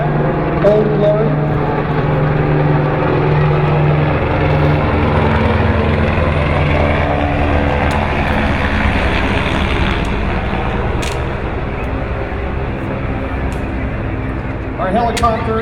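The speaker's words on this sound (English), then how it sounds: "This is our helicopter flyby." An air ambulance helicopter's rotor and engine rumble loudly and continuously overhead at a parade, with a low throbbing drone that lingers throughout, no clear pass-away.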